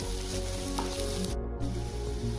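Onion, ginger and garlic sautéing in a pan for street-style momo chutney, giving a steady, close sizzle with faint crackles throughout and no talk.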